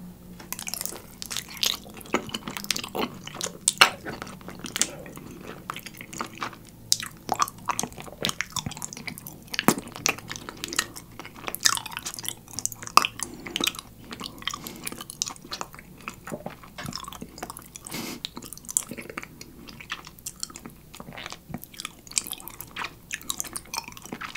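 Someone chews natural honeycomb with plain yogurt up close, making sticky, crunchy, wet mouth sounds. Bites and chews repeat steadily and irregularly over many seconds, with no talking.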